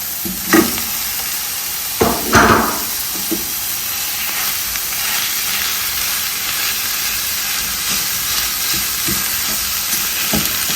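Corned beef frying in a hot pan with a loud, continuous broadband sizzle and hiss, punctuated by a few sharp stirring scrapes near the start, close and steady throughout.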